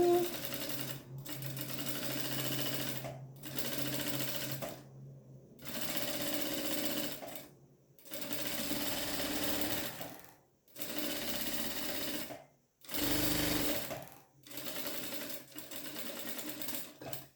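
Sewing machine stitching a Seminole patchwork rug, running in repeated bursts of several seconds separated by short pauses, steady and close, with no talk over it.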